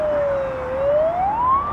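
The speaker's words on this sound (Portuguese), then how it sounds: "vem a ambulância aí pedindo a vez" An ambulance siren wails close by on a residential street in Arapiraca, Alagoas, one loud steady tone sliding slowly upward as the vehicle passes.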